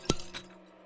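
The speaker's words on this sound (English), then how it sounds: "Then he heard the breaking glass that woke him up." Glass breaking as a short sound effect: one sharp crash near the start, then a fainter tinkling hit a moment later, with quiet decay and no voices.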